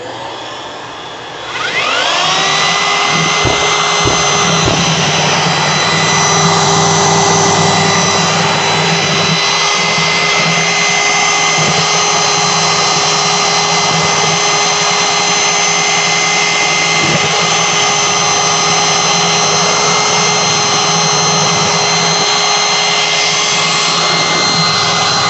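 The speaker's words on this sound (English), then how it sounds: "turn your vacuum on" A shop vacuum runs during mixing of a floor leveling compound for subfloor preparation, spinning up after a second and holding a loud, steady whine throughout with faint clicks and knocks beneath it.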